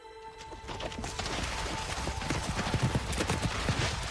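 Horse hooves clip-clop in Shadow of the Colossus, as riders on horseback pass, a fast irregular patter of hoofbeats growing louder over a busy rumbling game backdrop.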